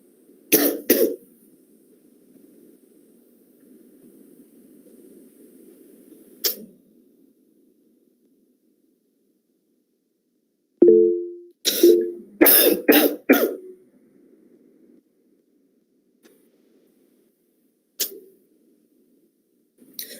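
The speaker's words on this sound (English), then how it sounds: "I'm sorry, I got a cough." Several harsh coughs ring out close by, a short cluster at the start and a rapid series later, with a quiet hum between.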